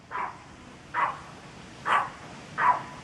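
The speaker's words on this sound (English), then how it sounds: "It's our vicious dog." A single dog barks four times at an even pace, each bark sharp and fairly close, with quiet background between.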